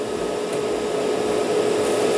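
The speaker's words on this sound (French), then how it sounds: "un léger petit coup de sèche-cheveux" A hair dryer blows on a freshly painted plastic model kit, a steady whooshing motor hum with a constant whine, close and continuous throughout, with no voices.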